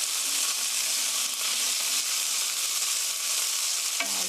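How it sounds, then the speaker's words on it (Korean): Pork stir-frying in a pan for a dish with oyster mushrooms, a loud, even hiss of sizzling fat that runs unbroken and close, with a faint clink near the end. "고기가 하얗게 될 때까지 살살 볶아주세요."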